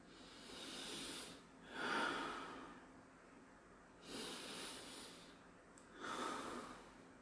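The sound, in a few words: person breathing slowly and deeply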